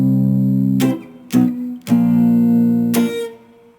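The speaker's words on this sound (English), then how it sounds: "I'm going to have part of the strings muted" Guitar strums with part of the strings muted by the left hand and a couple of high strings left ringing. There are four sharp, loud strokes at uneven intervals, each followed by a sustained chord, with no talking.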